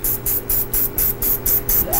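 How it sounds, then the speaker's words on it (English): Contact cleaner is sprayed onto a Neo Geo MVS arcade game cartridge (Windjammers), producing eight loud, close, hissing bursts in a steady stuttering rhythm from a faulty sprayer. "I'm gonna spray some of this on the cart"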